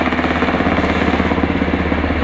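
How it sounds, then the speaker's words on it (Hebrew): Helicopter lifting off during a medical evacuation in the Negev desert, a loud close rhythmic rotor chop with steady engine roar throughout. "שכרגע המסוק עולה איתה"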